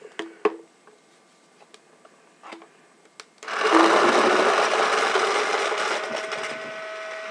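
A Dye Rotor paintball hopper runs its feed motor in a drop test. A few sharp clicks and taps come first, then a loud, steady whirring motor hum with a rattling buzz that holds for several seconds.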